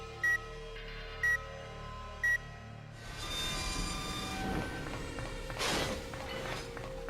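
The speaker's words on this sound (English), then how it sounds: "just wait for the train ride to come to an end" Train ride in the video game Devil May Cry 2: three short beeps, then a loud, steady rumble of rolling rail cars with screeching metallic tones and a surge of noise near the end, with no talking.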